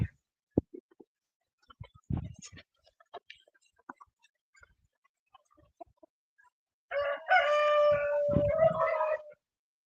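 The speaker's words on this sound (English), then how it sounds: "Can you hear the female guinea fowl in there?" Female guinea fowl calling outdoors in a backyard with chickens nearby, a burst of loud harsh repeated cries near the end after scattered faint clucks and yard noises.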